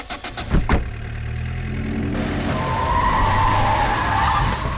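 A car skids to a halt on a road, a loud close tyre screech rising over a rumbling engine that keeps idling afterward.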